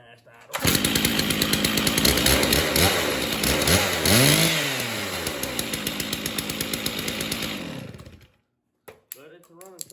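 A Stihl 660 chainsaw runs loud and close, holding a steady high buzz with a few throttle swells before it cuts off abruptly, followed by faint handling noises.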